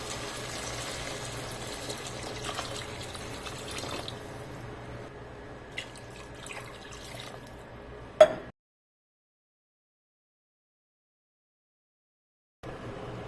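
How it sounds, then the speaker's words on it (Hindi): Water is poured into a pan of fried potatoes and peas for pulao, a steady splashing, gurgling stream for about eight seconds that cuts off sharply, leaving silence. "अभी इसमें डालना जी पानी।"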